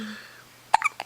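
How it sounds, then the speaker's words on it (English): A baby hiccups once, a short sharp catch close by, followed by a couple of smaller breathy bursts in a quiet room. "You got hiccups?"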